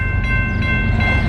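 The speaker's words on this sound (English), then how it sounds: "got another train coming up the line. This one's on 2" A CSX freight train passing on the line makes a loud, close, continuous low rumble, with faint tonal ringing above it throughout.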